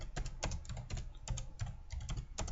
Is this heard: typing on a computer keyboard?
yes